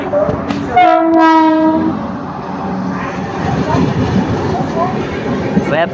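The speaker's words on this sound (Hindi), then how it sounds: "वेब 5 लोकोमोटिव के साथ Bhavnagar Bandra terminal superfast express train entering तोला जंक्शन" A WAP-5 electric locomotive hauls the Bhavnagar–Bandra Terminus Superfast Express into a junction station. A loud, sustained horn blast sounds over a steady rumble of rolling carriages, with faint background voices on the platform.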